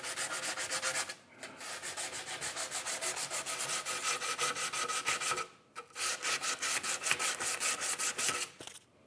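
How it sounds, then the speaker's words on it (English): Hand sanding on wood with 120 grit sandpaper, a rhythmic scratchy back-and-forth rasp in quick strokes, close and steady, stopping briefly twice. "I'm now going to do a light sanding with 120 grit"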